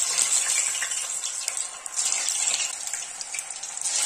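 Potato popcorn balls go into hot oil, and a dense, continuous bright hiss of frying holds steady and close throughout, with small bubbling flickers.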